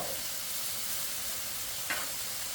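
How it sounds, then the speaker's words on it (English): Minute Maid rice heats in a hot pan for a Mexican chicken hibachi fried rice, giving a steady close sizzle and frying hiss throughout, with a couple of brief stirring scrapes near the end and no talking. "And this is just a simple Minute Maid rice. And basically, we're just kind of heating this up."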